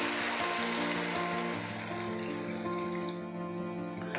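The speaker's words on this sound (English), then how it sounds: "so we'll add some water" Water pours steadily into a pan of simmering pepper chicken, a continuous close splashing rush that gradually eases toward the end.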